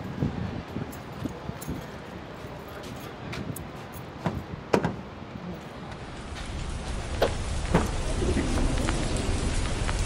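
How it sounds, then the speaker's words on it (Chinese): Steady rain falls and patters on surfaces nearby, with a few sharp drip or tap sounds and a low rumble underneath, growing slightly heavier toward the end. "对，下雨了。"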